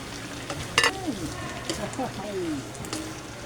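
Fried tofu dropped into a sautéed mixture for lumpiang prito makes a soft sizzle and a few stirring clatters, close by, under a person talking.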